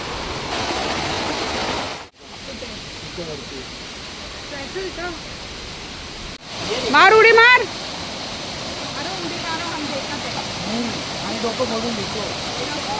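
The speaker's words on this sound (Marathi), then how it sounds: "आपल्या विभागात जर एवढा मोठा धबधबा आहे" A large waterfall in Ghatkopar swollen by heavy rain, its water muddy, roars as a steady broadband rush through the whole stretch while people talk, shout and laugh nearby.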